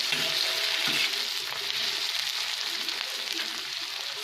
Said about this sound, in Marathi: टोमॅटो पण टाकून घेणार आहे आणि दोन मिनटं याला परतून देऊ